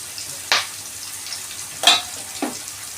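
Soya bean and potato curry frying in a pan in a small home kitchen, a soft steady sizzle broken by three scraping stirs, close and moderately loud, with no talking.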